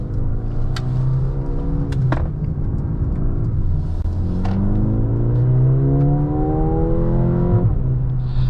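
A 2024 Mercedes-AMG GLA35 in Sport Plus mode pipes a synthesized engine sound into the cabin, giving a loud, steady drone with tones rising through the gears and brief dips at the shifts.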